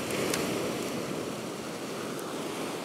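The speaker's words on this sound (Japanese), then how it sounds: "波をよく見て、ちょっとでかいな" Surf at a fishing beach breaks in a steady roar close by, with wind buffeting the microphone and no voices over it.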